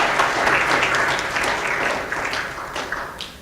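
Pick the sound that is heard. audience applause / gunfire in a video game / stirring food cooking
audience applause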